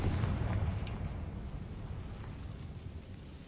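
The Confringo blasting spell goes off in the Hogwarts Legacy video game, a loud low booming explosion that hits at once and rumbles away over a few seconds.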